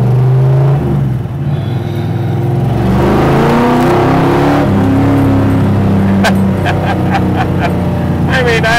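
A 1967 Shelby GT 500 with a 428 V-8 and four-speed rumbles loud and close, its engine note rising and swelling through light revs with steady harmonic drone throughout.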